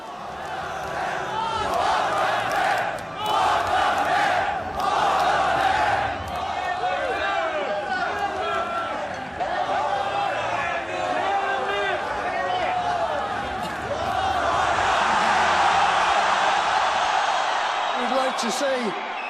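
A large concert crowd roars, cheers and shouts continuously for the whole stretch, loud and dense with whoops rising toward the end.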